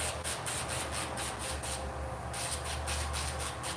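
A sanding grooming tool with worn sandpaper buffs a dog's nails, giving quiet rhythmic rubbing bursts in short repeated strokes with a brief pause partway through.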